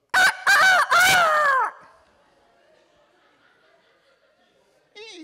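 A voice imitating a rooster crowing, a loud drawn-out cock-a-doodle-doo in three stuttering bursts up close, then near silence before a short vocal sound at the end.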